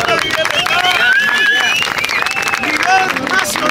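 Crowd at a freestyle rap battle semifinal in Concepción applauds and cheers loudly and steadily, with voices shouting over the clapping throughout.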